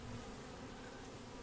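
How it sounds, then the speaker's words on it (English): Honey bees buzz steadily and close during a hive inspection, a dense continuous drone with no talk over it. "It's sitting right in the middle of all the other bees."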